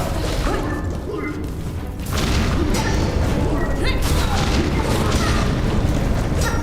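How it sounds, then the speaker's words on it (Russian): Explosions in Hollow Knight: Silksong rumble and crash as dense, continuous booms and bursts of game audio, with a sudden swell in loudness partway through. "все взрывается, все летает, все искрит."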